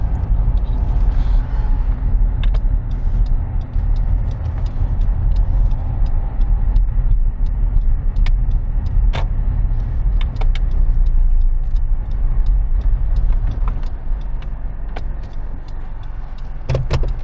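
A car travels nearby while following at night, its engine and tyres making a strong low rumble throughout with scattered clicks and creaks from inside the vehicle and no voices.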